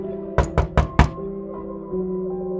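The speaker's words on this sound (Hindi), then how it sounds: "उसके दरवाजे से खटखटाने की आवाज सुनाई देती है" Four quick, sharp knocks on a door in an even rhythm, close and distinct, followed by a low sustained musical drone in a spooky horror-story setting.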